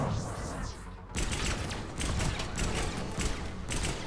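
Rapid gunfire from a Mass Effect 3 firefight, a dense run of bursts that stays loud and close with only short gaps between volleys.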